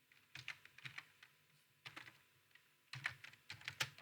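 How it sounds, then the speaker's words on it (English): Quiet, close clicking of a computer keyboard as a command is typed, uneven bursts of keystrokes with short pauses between, no talk. "So I will just type"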